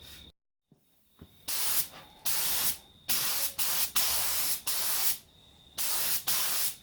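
A paint stripe is sprayed onto a Honda XL250 motorcycle in a series of short hissing bursts, each lasting about half a second to a second and separated by brief pauses. The spraying is close and loud, with no voices.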